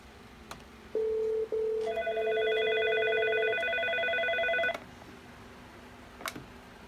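An IP phone placing a call to a Clearly IP phone, sounding two short dial tones and then a steady multi-pitched tone held for about three seconds before cutting off, close and clear with faint clicks around it.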